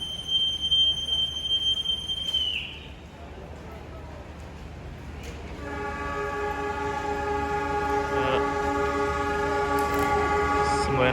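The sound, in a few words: Jayabaya economy train departing Surabaya Gubeng station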